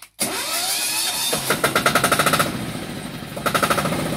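Self-propelled crop sprayer with its own engine and three driven wheels on a tobacco farm, running with a rapid mechanical chatter that pulses in bursts, close and fairly loud, with no talk.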